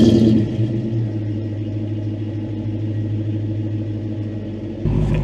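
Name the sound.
Saleen 570X engine warm start idling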